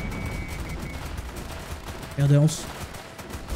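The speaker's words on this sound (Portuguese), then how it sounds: "foi meu bombardeio atual" Bombardment explosions and gunfire in the tower defense game Northend Tower Defense, with rapid crackling shots under a voice and one brief louder burst near the end; a man exclaims briefly.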